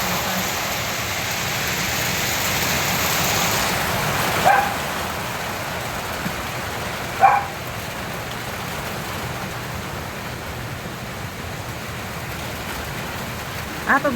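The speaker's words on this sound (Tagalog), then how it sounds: "May konting hangin na ano, sobrang lakas ng ulan." Heavy typhoon rain with some wind pours steadily and loudly, a constant dense wash with a few brief sharp knocks standing out, and no voices over it.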